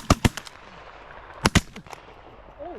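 Shotgun blasts fired at a flock of birds during a hunt: a quick burst of loud close shots, a pause, then another rapid pair of shots with fainter pops, while birds call briefly near the end.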